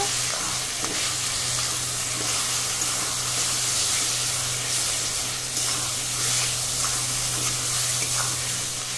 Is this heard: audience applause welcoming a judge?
no